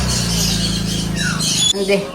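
Pet birds squawk for their food in sharp, harsh bursts over about two seconds, with a voice also present in the background.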